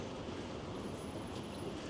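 A tram rumbles past near a tram depot in Moscow, a steady, continuous rolling rail noise at moderate distance with no clear breaks or talk.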